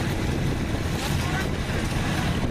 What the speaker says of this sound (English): Sorry if the wind's a little loud in the mic.